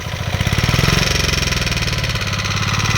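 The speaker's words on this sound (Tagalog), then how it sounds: "So i-adjust mo ang generator" A generator engine runs loud and close on a farm, a steady pulsing chug with a slight shift in pitch partway through, with no talking over it.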